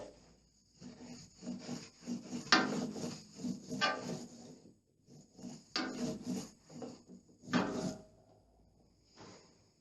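A paint roller works first-coat paint onto a radiator on a staircase wall, giving soft sticky rubbing strokes in bursts, some passes louder and closer, with short pauses between.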